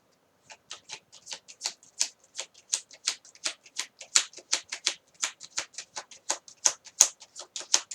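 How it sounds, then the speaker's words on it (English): Tarot cards being shuffled, a quick run of crisp riffling snaps and flicks in a steady, slightly uneven rhythm, close and fairly quiet with no talking. "Let's take out some more cards."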